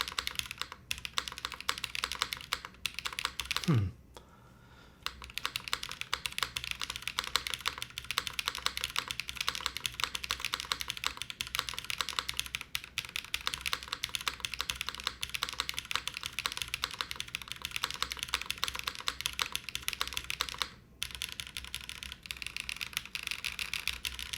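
Steady, rapid typing on a QK80 mechanical keyboard fitted with an aluminum plate, close and continuous clacking with dense keystrokes, one brief pause near the start and another short gap later.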